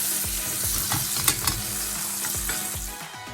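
Sirloin steak frying in a pan with butter, rosemary and garlic: a dense, continuous sizzle close up, broken by a few sharp spits and light scraping.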